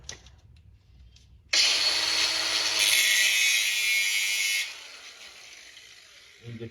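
A soapstone marker sharpened to a point on a power grinder in a workshop during a 1935 Ford rat rod build gives a loud, steady high-pitched grinding whine for about three seconds, set off abruptly after a quiet start.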